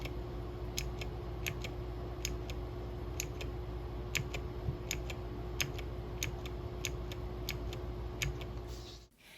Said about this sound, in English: It really clicks, and the click sound coincides with the tactile response that I can feel.